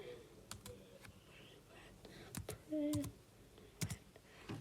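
Quiet typing on a computer keyboard, with scattered clicks and a few louder key presses in an irregular rhythm, heard close up under soft speech.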